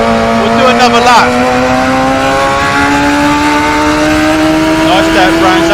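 A Radical SR3 XXR race car laps Brands Hatch in Assetto Corsa, its engine a loud, steady high whine that climbs slowly in pitch, with brief tyre squeal and gear-change blips near the start, and someone talks over it.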